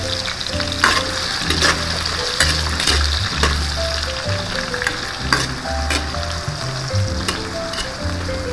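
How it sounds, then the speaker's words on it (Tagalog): Potatoes and carrots sizzle and fry in hot oil for a beef caldereta, a steady crackling hiss with occasional stirring clatter, close and loud, no voices. "Mas okay kasi na i-fry muna natin yung patatas natin at yung carrots"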